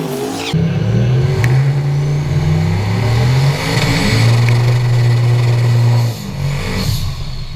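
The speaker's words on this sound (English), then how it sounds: "Normally when I do a burnout, it's sitting there kind of like bouncing on the limiter" A turbo V8 in a Nissan Hardbody pickup, fitted with new injectors, holds loud and close against the rev limiter during a burnout, a sustained droning roar with short stutters as it bounces off the cut, no talking.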